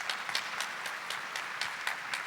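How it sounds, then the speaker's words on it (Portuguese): A church congregation applauding, faint, distant clapping in a loose rhythm of scattered claps, quiet and continuous over the short stretch. "Vamos aplaudir mais uma vez"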